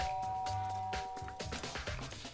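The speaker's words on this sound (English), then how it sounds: "I press the doorbell," A doorbell pressed in the Danganronpa video game gives a short electronic chime with a sustained tone, heard alone and fairly faint, followed by a brief musical flourish.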